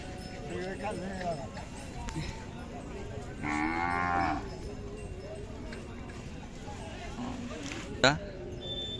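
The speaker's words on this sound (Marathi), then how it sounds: "अशा प्रकारची काजळी खिल्लार गाय आहे" A Khillar cow at a livestock sale at the Pandharpur Magh Wari fair moos in a long, harmonic low call midway, with people talking nearby and a brief sharp knock near the end.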